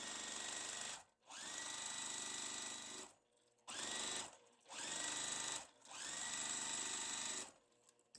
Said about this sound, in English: So now I have 3 pieces that I'm just going to sew and make them go a little faster.